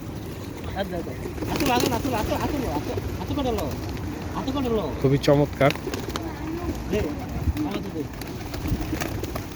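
Pigeons gather in the city of Naples, Italy, and soft coos and wing flutters sound close by while a person talks over them.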